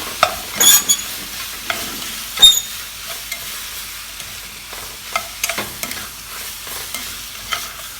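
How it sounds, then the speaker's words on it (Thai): Pork bones being stir-fried with chili paste in a pan for a Thai pork bone curry, giving a steady low sizzle with scraping stirs and a few louder clanks of the utensil, no voices. "จากนั้นก็ใส่กระดูกหมู ลงไปผัดนะคะ"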